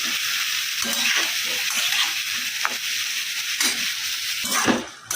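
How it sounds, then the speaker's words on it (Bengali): Bottle gourd is stirred into spice masala in oil in a pan, a constant close sizzle with repeated scraping and knocking of a spatula against the pan. "মশলাটাকে লাউয়ের সাথে ভালো করে মিশিয়ে দিলাম"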